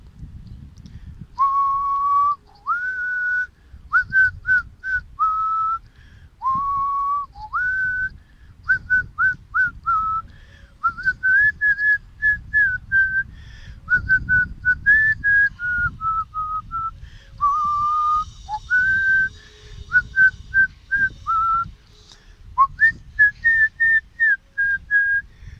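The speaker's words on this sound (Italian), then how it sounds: "fischierò la canzone del Cerbero Podcast, o meglio la relativa sigla" A person whistles the theme tune of the Cerbero Podcast alone, a steady, clear melody of short phrases and held notes running throughout with no talk.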